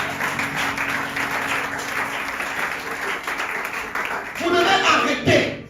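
A church congregation applauds steadily and loudly throughout, with a voice speaking over the clapping and a swell of cheering near the end.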